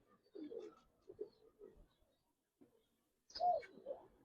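A female pigeon coos in soft, low bursts, a few short calls spaced apart with a quiet pause before a louder coo near the end, close and alone.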